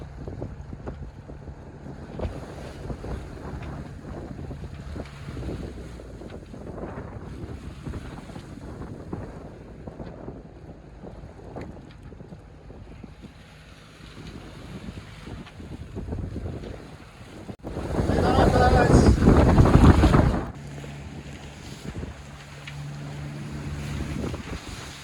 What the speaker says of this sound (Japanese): この日は到着した日よりもだいぶ風は落ち着いていましたが、海はこの通り。